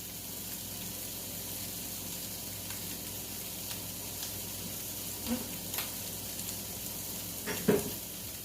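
Sausage fries in a pan with sauce added, making a steady, moderately quiet sizzle throughout, broken by a few small clicks and spatters near the end.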